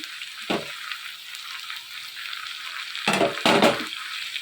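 Tamarind, coriander and tomatoes sizzle steadily in a hot pan with cooked brinjal, a loud continuous frying hiss that swells in a few bursts as the mixture is stirred, close up and with no voices.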